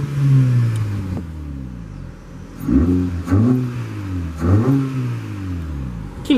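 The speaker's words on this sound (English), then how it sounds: "Give it a quick rev just to show you that intake." A 2013 Hyundai Veloster's engine, heard through its intake, revs sharply several times, each throaty rise and fall loud and close, from a low idle between blips.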